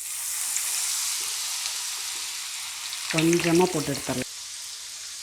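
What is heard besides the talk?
masala sweet corn deep-frying in hot oil in a pan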